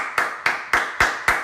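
Clapping on a talk-show set: five sharp, close claps at an even, steady pace, with nothing else around them.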